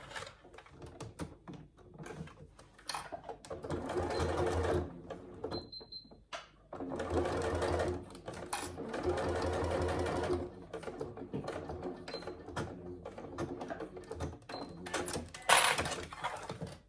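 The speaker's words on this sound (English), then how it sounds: "So now you'll top stitch along both long edges of the strap tab." A sewing machine top stitches along the long edges of a fabric strap tab in several bursts of rapid, close stitching, separated by brief pauses and small clicks.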